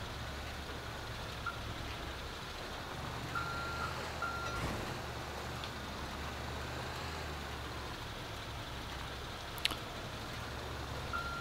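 A tow truck reversing in Grand Theft Auto 5 emits steady electronic backup beeps that sound in short runs over a low, continuous engine drone, with no voices.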